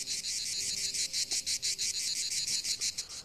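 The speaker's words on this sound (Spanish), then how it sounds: "Haciendo vibrar sus membranas rápidamente, emite un sonido conocido como canto de la cigarra." A male cicada sings by rapidly vibrating its membranes, a loud, steady pulsing buzz that throbs in quick regular beats throughout, with no voices.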